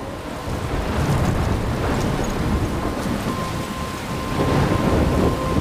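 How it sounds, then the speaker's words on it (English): A thunderstorm with heavy rain in an Android story game plays as a steady roar of downpour, with deep rumbling thunder running underneath and no voices. "I'm trapped in a storm?"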